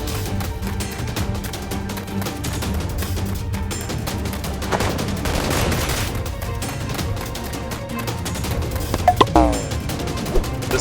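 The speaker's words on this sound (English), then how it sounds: "The gunfight continues fiercely" Nerf guns fire in a staged gunfight, with a busy run of cracking shots and thwacks over a steady backing bed and a few sharper bursts near the end.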